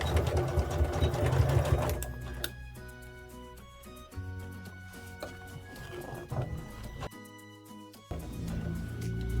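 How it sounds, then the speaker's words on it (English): A sewing machine fitted with a 1/4 inch foot back stitches a pinned quilt row, running in steady whirring bursts with short pauses and ticking starts and stops. "I'm going to start by back stitching."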